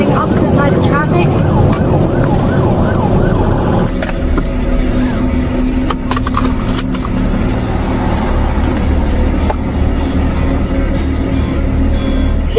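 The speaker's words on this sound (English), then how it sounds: "She has lights and sirens on, running opposite side of traffic" An emergency vehicle's siren wails on westbound highway 40 as it runs against the flow of traffic, loudest in the first few seconds, then continuing under steady road and engine noise with voices present.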